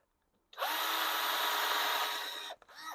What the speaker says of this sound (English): I think I will make these holes in here a little bit deeper.